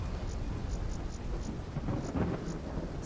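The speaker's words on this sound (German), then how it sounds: "bevor der Sturm noch heftiger zuschlägt" A thunderstorm in the video game Call of Duty Black Ops 3 gives steady rain hiss with a low rumble of thunder swelling in the second half, heard alone with no talk.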